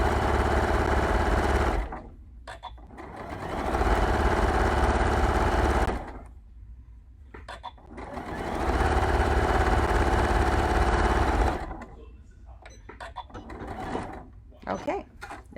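A sewing machine stitches down a fabric scrunchie in three steady whirring bursts, each a couple of seconds long, separated by quiet pauses with small handling clicks.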